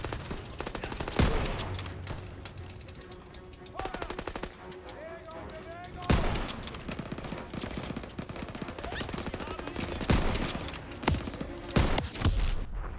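Call of Duty: WWII campaign combat with sniper shots and bursts of machine-gun fire, sharp loud cracks recurring every couple of seconds over a dense battle din, with game voices in the background.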